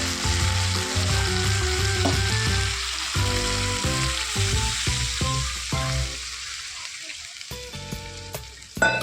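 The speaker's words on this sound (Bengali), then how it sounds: "মশলাগুলো আমার তেল হয়ে গেছে, এবার এতে একটু পরিমাণ মতন জল দিয়ে দেবো।" Spices frying in oil in a pan for a fish curry, a loud continuous sizzle broken by bursts of stirring and clatter, easing off near the end. Water being added is not clearly picked out.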